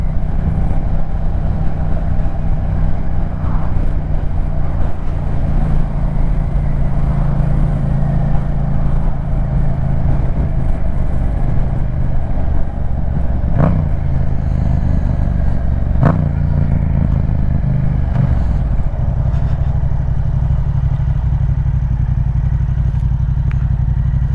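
A Yamaha MT-07 motorcycle cruises on a freeway at 70-plus mph, its steady engine drone mixed with heavy wind roar throughout, loud and close, with a couple of brief sharp clicks and no talking.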